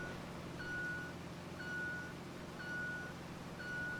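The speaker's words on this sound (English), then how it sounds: "Put it in drive so it stops beeping because it's driving me crazy." A heavy vehicle in the RoadCraft video game sounds its reversing alarm, a thin steady tone pulsing four times at about one beep per second over a low engine rumble, with no talk.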